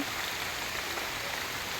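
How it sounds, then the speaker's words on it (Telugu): Heavy rain from a cyclone pours steadily over a field where crops are being picked, a dense, even roar of close downpour with no voices. "ఈ కాయలు ఏరేటప్పుడు మాకు వర్షం వచ్చేసి అసలు గట్టిగా వచ్చేస్తుంది"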